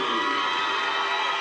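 Noisy school crowd cheering and whooping at a girls' under-15 schools cup football match, a continuous bright roar of young voices from the pitch side, steady and loud throughout.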